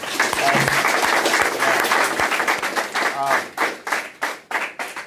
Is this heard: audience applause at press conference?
yes